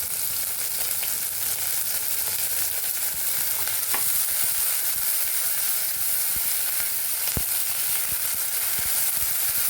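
Onions, spring onions and green chillies sizzle hard in hot oil for a roasted eggplant chutney, a loud steady frying hiss with occasional sharp pops and stirring scrapes, with no talking.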